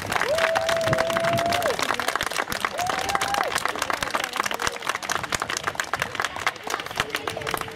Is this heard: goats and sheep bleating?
no